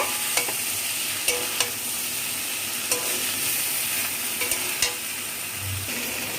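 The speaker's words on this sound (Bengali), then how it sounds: "মশলাটাকে সবজির সঙ্গে একটু ভালো করে মিশিয়ে নেব।" Spice paste being stirred into mixed vegetables in a pan for a Bengali pui shak curry with hilsa fish head, soft sizzling under repeated sharp spoon clicks and scrapes against the pan at irregular intervals.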